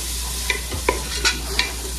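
Garlic and onion fry in a pan for a chicken fricassé, with a steady sizzle under a few sharp scrapes and clicks of a spoon stirring, close and loud, no voices.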